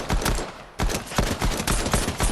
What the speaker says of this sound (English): if you just keep perfectly still and just shoot really slowly like this